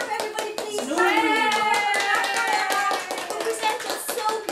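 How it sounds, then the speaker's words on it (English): A room full of people claps together to thank someone at a small raffle gathering, with a steady patter of many hands and a cheerful voice rising over it. "Clap, everybody, please."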